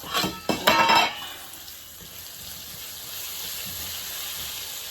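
Ivy gourd and potato curry cooking in a pan: a few quick utensil clinks at the start, then a soft, steady sizzling hiss that carries on alone.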